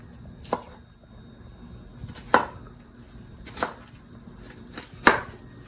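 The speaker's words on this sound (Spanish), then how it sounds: "vamos a ir haciendo cortes sobre toda la cebolla" A knife cuts through an onion on a board in four separate crisp chops spaced about a second or more apart, close and distinct over a quiet background with no talk.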